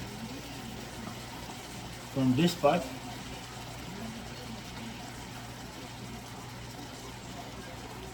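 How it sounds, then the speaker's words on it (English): A spoonful of water splashes briefly into a cooking pot of ground provisions and fish, a short burst midway through steady background hiss while a person talks. "Then I'm going to use 1 spoon of water"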